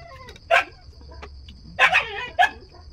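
Dog barking in short sharp bursts, one around the half-second mark and a closely spaced pair and single near the end, moderately near over a low background hum with a steady high tone.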